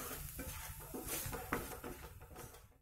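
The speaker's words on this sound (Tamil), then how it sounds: "இது அப்படியே அந்த எண்ணெயோடு சேர்த்து கலக்கி விட்டுக்கலாம்." A pan of garlic chutney being stirred with oil, giving a steady close scraping and clinking of a utensil against metal with soft sizzling throughout, one brighter clack partway through.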